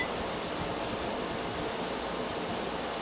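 Irish red ale poured into a glass, a steady, even hiss of liquid and foam running for about three seconds with no talk.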